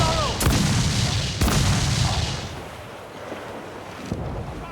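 Ship cannons fire in naval combat in the video game Assassin's Creed 4 Black Flag, with two heavy booming blasts in quick succession that roll off into rumbling wind and sea noise.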